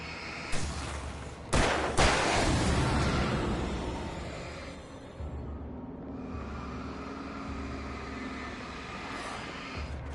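Loud blasts from a flashbang grenade going off in the video game Alan Wake Remastered, two sharp bursts near the start followed by a long ringing, noisy rumble that fades slowly.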